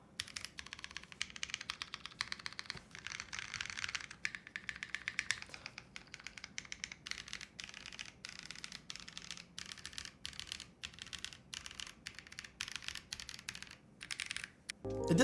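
Rapid, even keystrokes clatter on a mechanical keyboard, close and fairly quiet, a steady stream of clicky taps with no voices.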